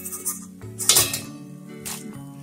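Crisp fried homemade snacks clinking and rustling against a metal pan as they are scooped out, with a few sharp bright bursts over a low steady hum, close and fairly loud.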